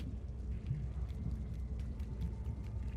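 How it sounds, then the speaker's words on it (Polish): Rain falling in the video game Little Nightmares, a steady hiss of drops with low rumbling underneath, continuous and fairly near. "Tu w ogóle pada deszcz nawet, wow."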